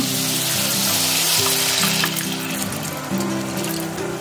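Water is poured into a sizzling hilsa fish curry cooked with mustard and poppy seed, making a loud, continuous hiss and bubbling roar with a low hum underneath, close and steady throughout.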